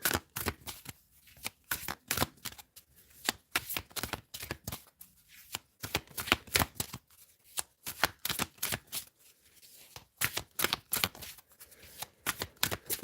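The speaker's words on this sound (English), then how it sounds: "Let's get you some life purpose cards." A deck of life purpose cards is shuffled by hand, close and crisp, with rapid rippling bursts repeating in an irregular rhythm throughout, with no talk.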